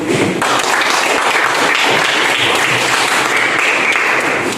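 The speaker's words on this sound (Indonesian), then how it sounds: "Tepuk tangan dulu." A youth audience at an orphanage outreach session on teen brawling bursts into loud, close applause, with dense, continuous clapping that holds steady for several seconds.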